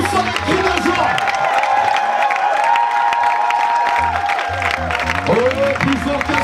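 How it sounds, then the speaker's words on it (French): A large crowd at a church graduation ceremony cheers and claps with shouts and whoops, a loud continuous roar of voices over a low, pulsing music bed. "nous poussons les cris de joie."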